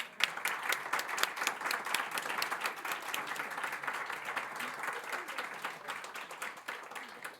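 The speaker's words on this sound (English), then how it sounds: "Please welcome the 47th Premier of New South Wales, Chris Mintz, with applause" A room full of people at a clean energy forum applauds the Premier of New South Wales steadily, a dense patter of clapping that holds at even strength throughout.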